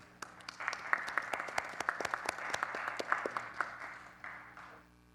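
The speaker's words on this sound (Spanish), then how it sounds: "y un aplauso para..." Scattered applause from a modest group fills a room during a social security conference session, sharp individual claps rising quickly and then thinning out toward the end.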